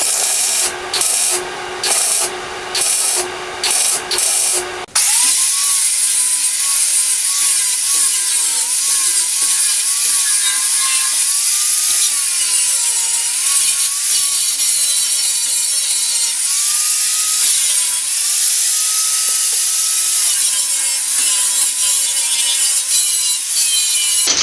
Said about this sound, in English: Just going to dress them up with a grinder a little bit